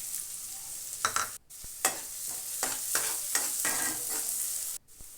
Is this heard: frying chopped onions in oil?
yes